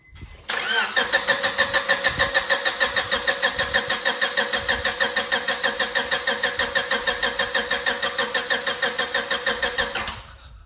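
Car engine cranks with a rapid rhythmic starter whir for about ten seconds after the ignition is turned, loud and close, then cuts off without catching into a steady idle.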